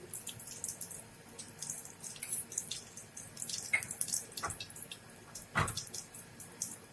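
Full-cream milk is poured slowly into hot ghee in a kadhai, giving a close, trickling liquid splash with irregular drips and soft gurgles, with no voices.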